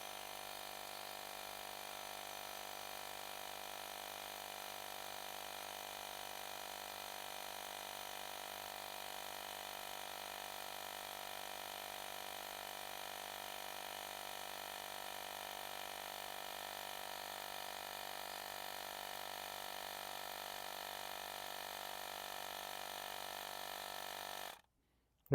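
A portable rechargeable air compressor inflates a dual sport ADV motorcycle tire from 16.5 to 22 psi, giving a steady, fairly quiet mechanical hum that runs evenly for about 25 seconds before cutting off abruptly.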